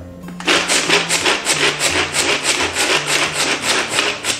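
Rhythmic rasping pulls of a pull-cord garlic chopper worked upside down, each stroke a quick scraping whirr repeating about twice a second, close and fairly loud, with no talk.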